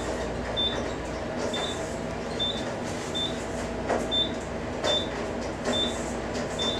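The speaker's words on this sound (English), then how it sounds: "This is the new elevator at the Bois Library." A new elevator at the Du Bois Library at UMass Amherst runs with a steady mechanical rumble and rattle, and short high beeps recur at regular intervals.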